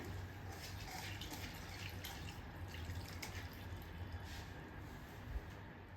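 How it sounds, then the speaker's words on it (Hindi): Water runs and splashes steadily as flattened rice (poha) is washed in a sieve, a faint continuous trickle with small drips and no talking. "पोहा लेने के बाद हमें इसको अच्छी तरह से धो लेना है।"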